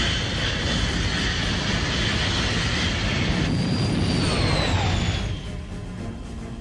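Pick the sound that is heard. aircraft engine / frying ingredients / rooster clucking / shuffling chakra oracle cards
aircraft engine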